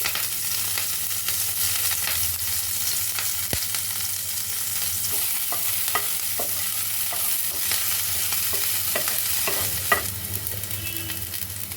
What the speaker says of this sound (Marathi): नंतर त्यामध्ये दोन हिरव्या मिरच्या बारीक कापून त्या आपण परतणार आहोत